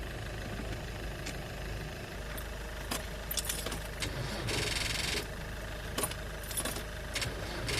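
A car engine idles steadily, a continuous low rumble running throughout, with jingling keys, clicks and light handling noises on top and no speech.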